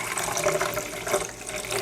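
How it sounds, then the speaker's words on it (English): Strained coconut water poured into a container, a steady close splashing trickle running without pause. "We opened a coconut and we have our strained water over here. I'm just going to pour some of that in here."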